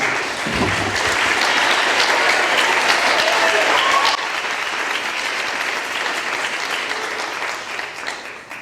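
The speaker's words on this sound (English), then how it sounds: "Please join me in another round of applause for all the 2016 MVC All-Freshman team members" An audience at a women's soccer awards reception applauds the All-Freshman team, loud sustained clapping that fills the room, easing slightly in volume partway through and continuing to the end.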